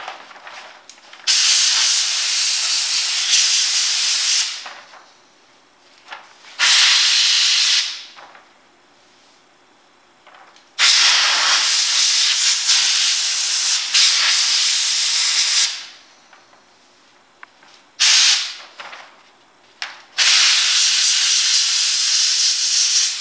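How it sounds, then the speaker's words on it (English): Compressed air blows in loud, steady hissing bursts on a Kydex cheek rest, five or six blasts of several seconds each separated by short quiet gaps, close and alone. "I'm going to speed this up a little bit using compressed air."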